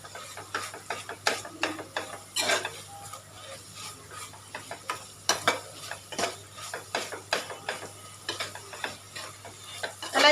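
Spice masala for khichdi sautéed in a pan, stirred with a spoon in a steady run of scraping, rattling strokes over a faint sizzle, close and continuous.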